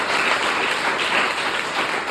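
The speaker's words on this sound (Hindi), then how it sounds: "जोरदार ताली।" Loud, dense audience applause fills the hall, a continuous wash of many hands clapping together at an even level, with no speech over it.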